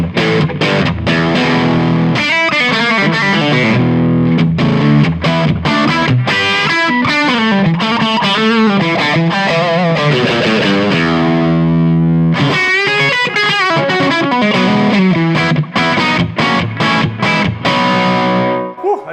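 A Victory Deputy Compact guitar amp head through a Lunchbox 1x12 cab on its higher-gain second voice, driven electric guitar playing loud, continuous overdriven chords and riffs with sustained, dense distortion and short pauses between phrases.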